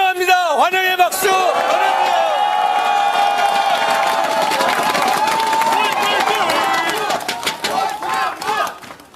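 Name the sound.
crowd applause and cheering welcoming a party leader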